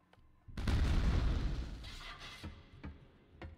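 A heavy explosion in the video game Quake II: Ground Zero bursts in and rumbles for about two seconds, then fades into a few sharper distant blasts and pops.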